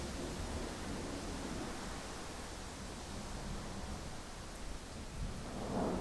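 Rain falls in a steady, faint hiss throughout, with a low rumbling undertone and no voices.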